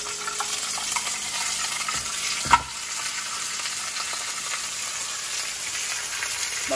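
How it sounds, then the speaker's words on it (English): Continuous loud sizzling of a frozen fish fillet frying in a hot pan, with one short sharp pop partway through. "so I'm frying me another piece for tomorrow."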